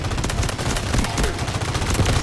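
Gunfire crackles in the Delta Force video game, a dense series of rapid shots and bursts running through the whole stretch with background game noise.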